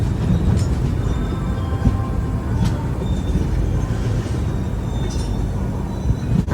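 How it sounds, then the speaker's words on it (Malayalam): A double-stack freight train hauled by a single WDG4 diesel locomotive rolls by with a dense, continuous low rumble, faint clanks and occasional squeals rising through it, with no talking. "ഇത്രയും ലോഡ് വലിക്കുന്ന ഒരു സിംഗിൾ WDG4 ആണ് കേട്ടോ"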